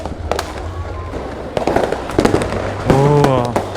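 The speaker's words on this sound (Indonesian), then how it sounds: "terlalu banyak kembang api yang dinyalakan di bagian alun-alun" Fireworks pop and crackle in the distance over a town square in the rain amid a noisy crowd, with people talking nearby.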